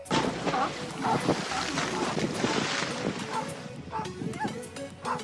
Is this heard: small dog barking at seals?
yes